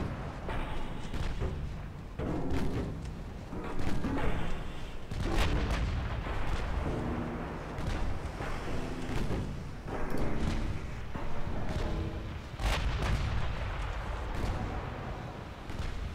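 Naval guns on a Japanese dreadnought-era warship fire high explosive shells in a naval battle video game, a continuous run of heavy booming salvos and thuds rolling over a low rumble.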